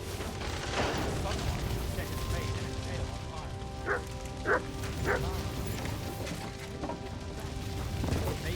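A dog in the medieval game Kingdom Come Deliverance 2 gives several sharp barks spaced about a second apart mid-clip, amid ambient game noise and rumbling, with talk in the scene.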